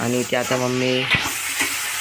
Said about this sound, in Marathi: मम्मीनी एका कढईमध्ये कांदा परतायला ठेवलाय.